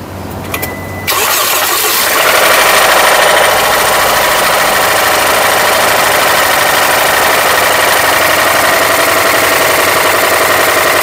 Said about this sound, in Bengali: এই হলো ইঞ্জিনের সাউন্ড এবং কন্ডিশন, যেটা আপনারা শুনতে পারতেছেন।